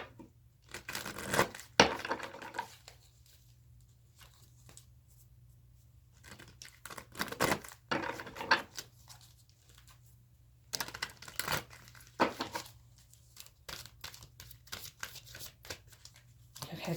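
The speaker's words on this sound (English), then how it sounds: "Okay, cards keep getting stuck." A deck of tarot cards shuffled by hand in uneven bursts, crisp papery riffles and slaps separated by quiet pauses where the cards stick, close and fairly soft with a low steady hum underneath.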